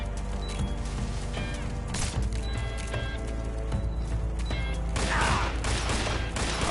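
Enemy gunfire in Metal Gear Solid: Snake Eater on PS5 crackles through busy game music and effects, with sharp shots near the start and a louder burst toward the end.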